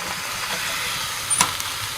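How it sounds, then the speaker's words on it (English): Partly frozen honey butter glazed chicken wings sizzle in a Dutch oven at a winter tent camp, a steady close hiss with one brief crackle near the end. "listen to them sizzle"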